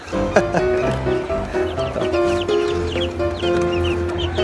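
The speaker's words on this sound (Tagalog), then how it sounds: "Ipapakita ko muna sa inyo yung ating mga sisiw." 5K Sweater gamefowl chicks and hens clucking and peeping close by, a busy overlapping chorus of short clucks and high cheeps with no speech.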